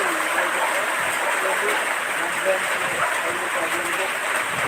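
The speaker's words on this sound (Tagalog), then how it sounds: "lakas ng ulan" Heavy rain pours steadily in an outdoor Philippine setting, a dense broadband hiss with constant loudness across the whole stretch, faint voices murmuring underneath.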